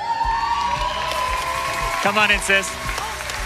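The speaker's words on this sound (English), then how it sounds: "we're just gonna cheer like crazy" Congregation at a church baptism cheering and clapping in a burst of whoops and applause, with someone speaking over the noise and voices rising near the end.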